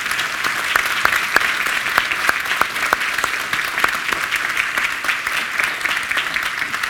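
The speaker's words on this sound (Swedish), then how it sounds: "Jag tycker de är värda en gemensam applåd." A crowd gives sustained applause at a Swedish award ceremony, a broad continuous clatter of many hands with a few louder individual claps standing out close by.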